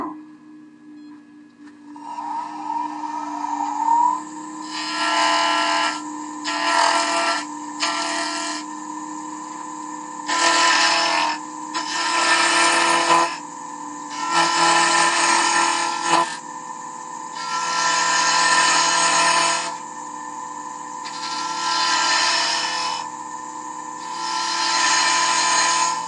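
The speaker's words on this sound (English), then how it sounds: "So now I'll just take these corners off and make it cylindrical." Wood spindle on a lathe as a gouge takes the square corners off to make it cylindrical, a steady low motor hum under repeated bursts of rough, scraping cutting noise that start and stop every second or two.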